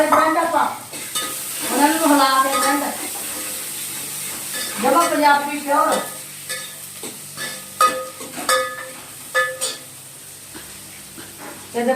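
Green chili, garlic and onion fry in a pan while being stirred, scraping and clinking over a sizzling background, with bursts of nearby talking in between.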